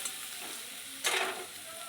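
Onions frying in a pan for a fish kalia curry, a steady soft sizzle with a brief louder burst of hissing midway as they are stirred, close and alone without voices.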